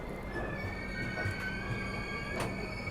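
A train pulls out of Dharmavaram Junction on the South Central Railway in Andhra Pradesh, a steady low rumble of rolling wagons with faint high wheel squeal and tonal whines, continuous and without talk.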